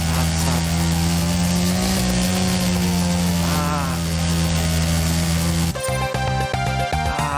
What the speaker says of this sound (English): Why is the chainsaw so loud?